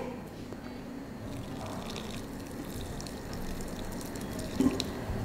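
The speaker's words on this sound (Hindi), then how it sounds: "और अब इसमें पोर करूंगी मैं बॉइलिंग हॉट वाटर," Boiling hot water pours into a dough mixture in a home kitchen, a steady soft splashing and trickle running throughout at moderate, close range, with a brief louder splash near the end.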